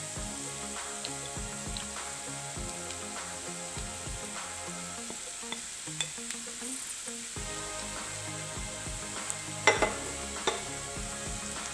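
Crushed beef is stirred into onions in a hot pan for beef cutlets: a steady close sizzle runs throughout, with frequent soft scrapes and taps of a spoon against the pan and no talk.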